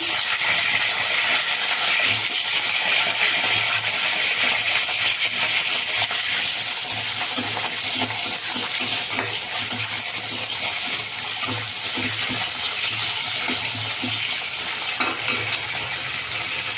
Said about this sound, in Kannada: ಎಣ್ಣೆ ಕಾದಿದೆ ಬದನೆಕಾಯಿ ಹಾಕ್ಕೊಳ್ತಾ ಇದ್ದೀನಿ